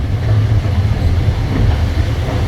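Passenger train on the Luang Prabang to Houay Xay line in Laos pulling away, a steady loud low rumble of rolling stock and engine, continuous and close, with no distinct clacks standing out.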